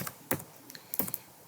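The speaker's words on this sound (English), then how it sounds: "I am going to just start typing my name" A username is typed on a computer keyboard in a few quiet, scattered key clicks with short pauses between them.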